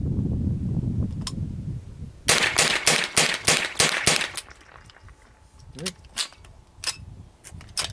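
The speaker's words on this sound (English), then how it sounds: "we'll just shoot this guy nice and close here at 20 yards" AR-15 rifle chambered in .22 long rifle fired at a 20-yard target, a rapid string of about eight sharp close shots, preceded by a voice and followed by scattered handling clicks.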